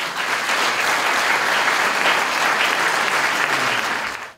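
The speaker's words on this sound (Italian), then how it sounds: "non prima di aver fatto un applauso" A lecture audience applauding in a dense, sustained wash of clapping that stays loud and even for several seconds before cutting off, with no voices on top.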